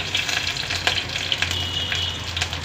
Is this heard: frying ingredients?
yes